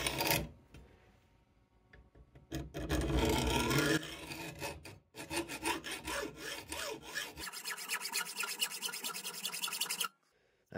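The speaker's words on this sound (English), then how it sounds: "I'm trying to do this with a hacksaw first." Hacksaw cutting through metal during a snow blower impeller upgrade, rasping in rapid back-and-forth strokes that come in several loud bursts with short pauses between them, no talking.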